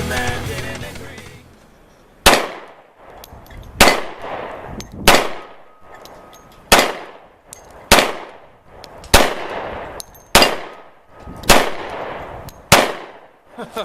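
Close-range gunshots from a custom hydro-dipped Glock 20SF 10mm pistol at an outdoor range: nine loud, sharp reports spaced about a second or two apart, each followed by a short ringing decay, with no talking.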